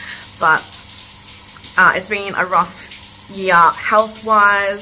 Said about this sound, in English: Sorry for the background noise. I had to get my daughter in the shower.